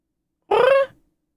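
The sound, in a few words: cat meowing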